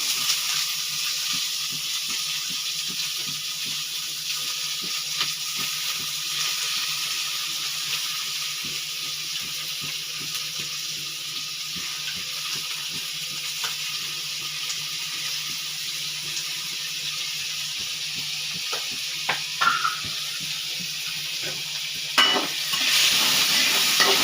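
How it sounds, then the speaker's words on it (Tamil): Onions with curry leaves sautéing in a pan for a tomato pachadi, giving a long, steady sizzle with faint stirring ticks throughout and a few brief clinks near the end; no one speaks. "வெங்காயம் நல்லா வதங்கிட்டுறேன்."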